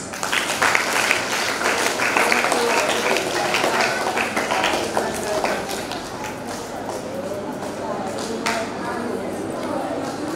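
An audience at a children's summer camp applauds to welcome a young boy onto the stage. The clapping is loud and dense at first, then gradually thins and softens.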